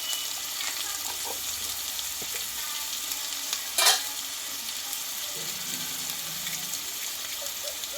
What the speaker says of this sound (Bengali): আর দেবো স্বাদ মতো লবণ দিয়ে একসঙ্গে মশলাটা আমি ভালোভাবে কষিয়ে নেবো